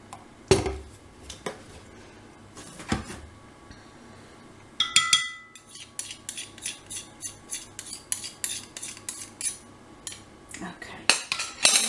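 Mint raw chocolate mixture stirred in a bowl, with a run of quick metallic clinks and scrapes of a utensil against the bowl, steady and close, following some sparse knocks.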